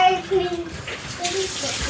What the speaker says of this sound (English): But I am going to rinse this out.